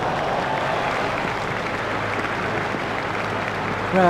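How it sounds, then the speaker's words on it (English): Steady, loud crowd applause and cheering in a retro cricket video game after a front-foot shot, a dense wash of clapping that holds evenly throughout, with a brief tonal game sound at the very end. "The crowd were brought to their feet by that shot."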